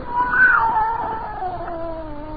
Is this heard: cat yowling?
yes